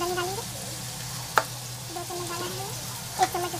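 Onions, tomatoes, chilli, ginger and garlic frying in a pan for chole, with a steady sizzle throughout and a couple of sharp clinks of a utensil against the pan.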